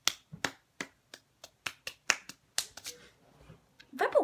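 Someone attempts fast hand clapping, producing a dozen or so sharp, close claps in an uneven, not very fast rhythm, followed by a brief burst of speech at the end.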